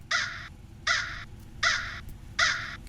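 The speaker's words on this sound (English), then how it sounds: "I added in a bunch of crow sounds." Four loud, harsh crow caws in steady succession, evenly spaced, close and clear over a low background rumble.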